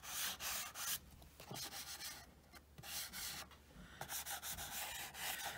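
Chalk pastel is blended lightly across paper in close, soft rubbing strokes, a series of irregular scratchy swishes separated by brief pauses, with no talking.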